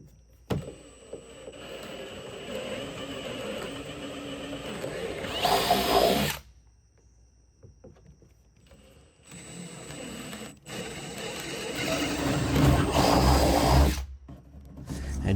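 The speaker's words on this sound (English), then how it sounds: "it'll require drilling a few holes through the boat" Power drill whirring in two long bursts with a quiet pause between, boring holes through a wooden boat hull along the shear during a refit.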